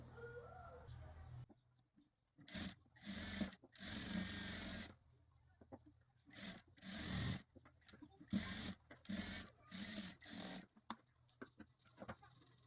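A sewing machine top-stitches a katori blouse in repeated whirring runs of a second or two, close and fairly loud, with birds cooing and calling faintly in the background.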